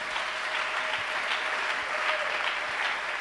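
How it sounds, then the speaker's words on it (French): Steady applause fills a church congregation for a few seconds, dense and continuous with sharp individual claps throughout, loud and close, with no talk over it. "on acclame pour le Seigneur"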